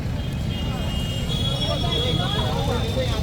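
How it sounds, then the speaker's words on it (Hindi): Dense road traffic fills the air on a crowded road near the Mahakumbh at Prayagraj, a loud continuous rumble with engine drone and faint horn-like tones, while someone talks over it. "सॉरी ट्रैफिक के शोर के लिए"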